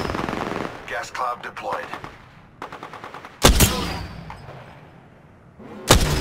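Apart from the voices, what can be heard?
gunfire in the video game Apex Legends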